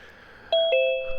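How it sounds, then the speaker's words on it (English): A doorbell chimes twice in quick succession, a clear two-tone ding-dong whose notes ring on and fade against a quiet room background. "I've heard the bell a few times."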